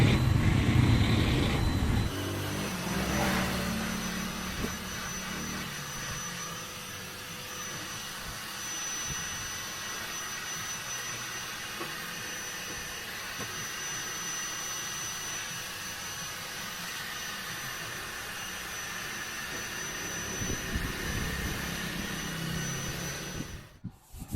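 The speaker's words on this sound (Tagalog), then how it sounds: "gumamit po tayo ng hair blower or heat gun" A steady, loud heat gun roars continuously at close range, warming stainless steel before painting, with a faint high whine on top and a slight shift in tone as it moves.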